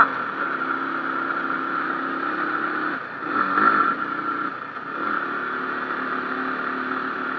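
Vehicle engine labouring in second gear up a steep mountain road toward Keokradong, Bangladesh, a steady mid-pitched drone with a brief surge in the middle, close and constant.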